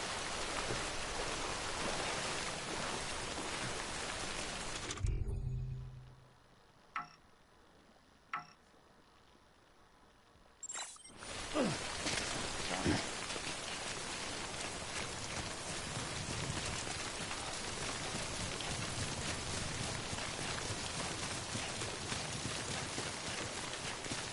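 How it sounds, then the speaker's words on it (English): Steady rain pours in the Death Stranding video game, a dense even hiss that drops out to near silence for a few seconds with a couple of faint ticks, then returns just as heavy. "the rain is actually damaging some of the ladders and cargo on my back."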